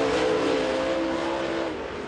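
A race car accelerates past during qualifying at Volunteer Speedway, a loud, continuous engine roar with a slowly shifting pitch that fades slightly toward the end.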